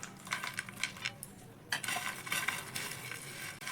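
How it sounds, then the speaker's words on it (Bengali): Fried peanuts being stirred into a crispy snack mix make quiet, close scraping and rattling strokes with a brief pause midway, then more clinking stirs, and no voices. "তো ভেজে রাখা বাদামটা আমি এবার এর মধ্যে মিশিয়ে দেব।"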